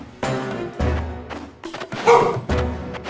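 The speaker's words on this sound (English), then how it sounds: "Oh, and my dog's barking." A dog barks repeatedly nearby, several loud separate woofs spaced about half a second apart, with a short yelp in the middle of the series.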